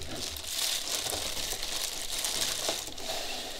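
Continuous close crinkling of plastic foil as a Dexter Power 600 W electric paint spray gun is unwrapped, a dense rustle that stays steady for a few seconds with no voices.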